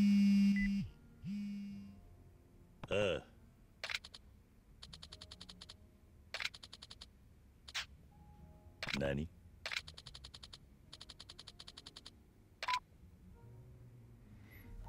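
Phone call in the Yakuza Kiwami 2 video game: a run of rapid electronic beeps and dial-tone bursts in short repeating groups, separated by sharp clicks and brief silences.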